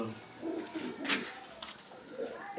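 Pigeons coo in a home loft, soft rolling coos repeating close by over steady low background noise, with no talking.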